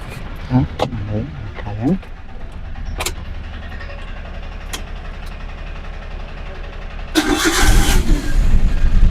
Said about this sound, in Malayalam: ഇനി നമുക്ക് വണ്ടി ഒന്ന് സ്റ്റാർട്ടാക്കി നോക്കട്ടോ